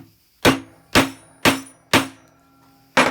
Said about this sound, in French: j'attrape le marteau.